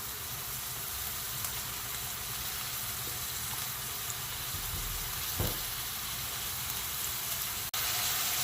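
Chopped green chillies, three of them, dropped into a hot pan of spicy pepper chicken with onions, giving a steady close sizzle and faint frying hiss with a soft stir, no voices.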